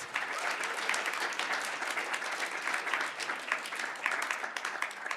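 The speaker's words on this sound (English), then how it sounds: "Let's give another round of applause to all the time travelers." Sustained audience applause for presenters at a civic data PechaKucha event, a dense, even roar of many hands clapping at moderate volume, with no speech over it.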